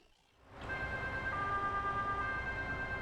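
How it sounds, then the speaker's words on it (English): German fire brigade siren from an emergency vehicle in Farming Simulator 22, rising in after a quiet start and holding a steady two-tone wail, fairly loud and alone. "This is a typical German fire brigade sound"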